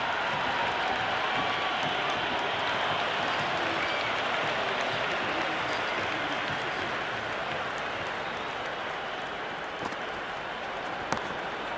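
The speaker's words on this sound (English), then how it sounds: "There's an almost tangible fervour throughout the crowd at the moment." Dense, steady crowd applause and cheering fill a cricket stadium in the Cricket 26 video game, a broad continuous roar holding at the same level throughout with no pauses.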